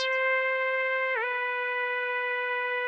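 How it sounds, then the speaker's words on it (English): A hip hop attack synth lead preset in FL Studio plays one long sustained bright note with a brief pitch wobble partway through, loud and alone with no drums or voices. "I got this synth lead, hip hop attack lead 1"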